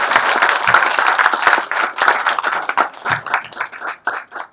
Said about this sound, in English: please give a big applause to him